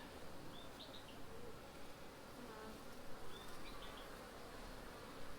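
Bees hum in a dense, steady drone at an open beehive during a hive inspection in Jamaica on an overcast day, with a couple of faint bird chirps in the background.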